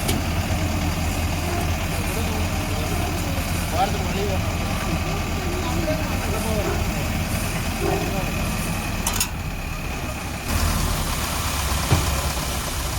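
Tipper truck unloading M sand at a temple site, its heavy diesel engine idling and rumbling steadily throughout, close and loud, with a brief drop in level and a couple of clanks near the end.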